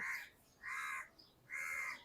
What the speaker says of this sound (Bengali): কাক কাকা করতেছে